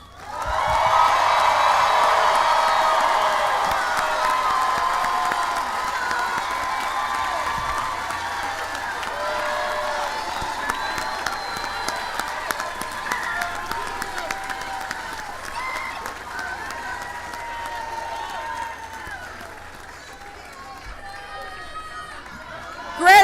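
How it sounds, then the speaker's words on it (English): A graduation audience at Saint Elizabeth University applauds its 2024 graduates: loud, sustained clapping with some cheering and whoops that runs steady for about twenty seconds before easing slightly near the end. "Graduates, please turn, face the audience, and receive their applause."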